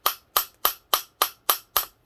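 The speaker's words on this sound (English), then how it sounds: "Now I'm using a brass hammer because a brass hammer is not going to mess that up." Seven crisp, evenly spaced taps of a brass hammer on a crankshaft part of a KE102 engine, each a sharp metallic tick ringing briefly, heard close and alone.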